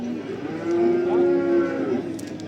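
A calf being fattened at a cattle market in Barda gives one loud, close, drawn-out moo lasting about a second, with faint market bustle around it.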